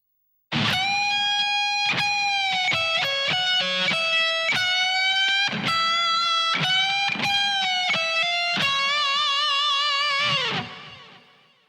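Electric guitar playing a solo at a slow pace, with distorted single notes, quick hammer-ons and sustained bends in a series of separate phrases, ending in a fading held note; close, loud and solo.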